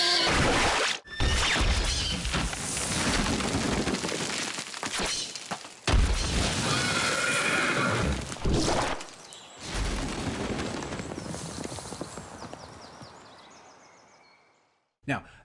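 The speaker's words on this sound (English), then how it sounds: "Now, that was the sound of the horses being impaled," Violent horse-impaling sound effect from a tabletop fantasy campaign: a loud, dense burst of crashing, shattering and booming impacts in several surges with brief gaps, ending in a fading tail and one last hit.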